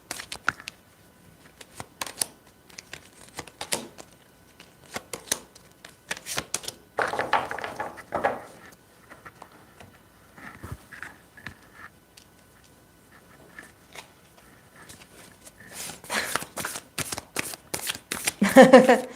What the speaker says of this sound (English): Okay, let's pull some cards for 50-50.